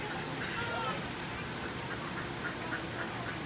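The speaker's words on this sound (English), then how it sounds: "You get a bunch of happy ducks." A bunch of ducks quack around water set out in the desert near Las Vegas, the calls repeated and moderately close within a steady, noisy outdoor background.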